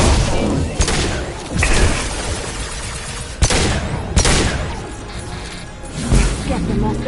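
Heavy gunfire in the video game Mass Effect 2 comes as dense, loud bursts of shots and booms with a few sharp impacts, while combat voices call out over the fighting.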